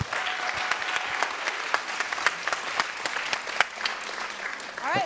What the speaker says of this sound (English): let's just have a big round of applause for our students